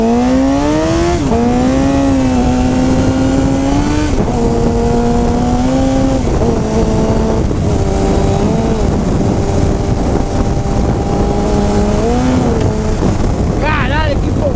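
A Suzuki GSX-R 750 motorcycle with an Akrapovic stainless steel exhaust on a test ride. The engine drones steadily and loudly, its pitch rising and falling as it accelerates and shifts gears, under heavy wind rush throughout.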